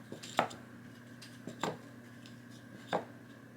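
Queendomino tiles being flipped over on a tabletop, three separate sharp clacks spaced about a second apart, close and clear over a quiet background.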